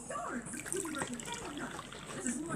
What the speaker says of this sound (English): I'm going to pour the warm water into